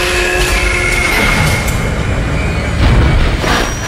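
A mine cart rolls along rails in the video game Dead Space, a loud continuous rumbling drone with thin, sustained metallic squealing tones riding above it.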